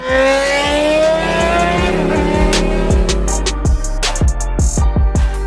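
Cars leaving a Cars and Coffee meet rev hard and accelerate away, loud and close, with rising engine harmonics followed by a rapid series of gear-shift pops and crackles.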